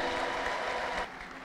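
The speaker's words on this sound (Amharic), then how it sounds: "እስኪ ለእግዚአብሔር የሚመጥን ጭብጨባ እልልታ" A church congregation claps in a short, dense burst of applause that fades slightly at the end, heard at a moderate distance.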